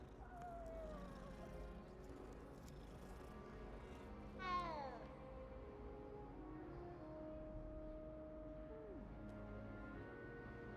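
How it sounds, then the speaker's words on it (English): A single short house-cat meow from the video game Hogwarts Legacy rises faintly over soft, steady game background sound. "A domestic house cat."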